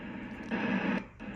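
A National NC-300 shortwave receiver, its power supply fitted with an added filter capacitor, tuned to the 40-meter band, giving a steady rush of hiss and static that swells briefly louder partway through.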